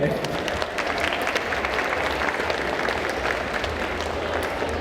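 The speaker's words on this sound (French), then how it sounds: "je pense qu'on peut l'applaudir également" A convention crowd applauds a volunteer at a stage hypnosis show, dense and sustained clapping filling the whole stretch at an even level, with voices mixed in.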